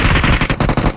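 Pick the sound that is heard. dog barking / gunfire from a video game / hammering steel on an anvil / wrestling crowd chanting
gunfire from a video game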